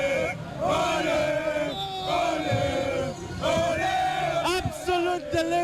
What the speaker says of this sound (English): Absolute delirium, absolute joy from fans here in the crowd after Ghana secured a victory against Panama